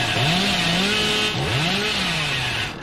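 Killer's chainsaw revving in Dead by Daylight, a loud, snarling motor whose pitch swoops up and down in repeated revs over about three seconds.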